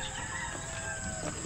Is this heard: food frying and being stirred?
no